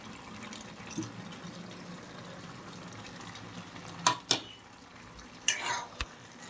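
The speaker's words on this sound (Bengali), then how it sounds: "এবার আমি আলুগুলো দিয়ে দেবো।" Potatoes go into a pan of bottle gourd stewing in its own released water, with soft stirring and low simmering, then a few sharp clinks and scrapes of a utensil against the pan.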